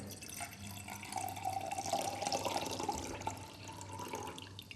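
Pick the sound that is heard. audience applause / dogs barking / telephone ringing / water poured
water poured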